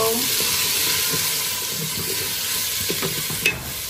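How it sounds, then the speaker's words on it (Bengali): Moringa drumsticks tipped into a hot pan sizzle and hiss steadily while being stirred, with soft scraping and clicking of the utensil against the pan. "এখানে হচ্ছে সজনেটা আম্মা ঢেলে দিল।"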